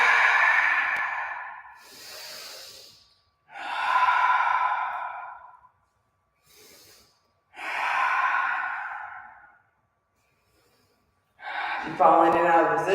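Breaths in a yoga class pose: three long, fairly loud sighing exhales spaced by quiet pauses, then a brief rougher burst of breath near the end.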